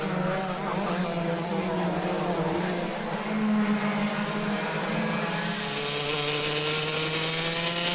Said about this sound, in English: He's closing in on race leader Glenn Beard